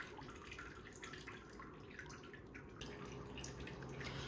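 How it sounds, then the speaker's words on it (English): Water dripping and trickling off a handmade paper mould just lifted from a vat of pulp, a steady close patter of drops and runoff that thickens slightly toward the end. "Just let the water drip off."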